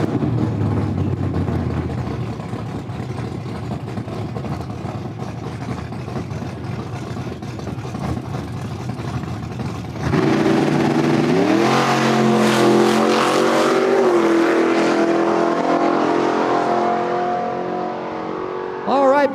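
A hatchback Mustang drag car makes a solo bye run on a dragway, first idling and burbling low, then launching into a loud roaring acceleration through the gears that fades as it pulls away, with announcer-style talk over the early part.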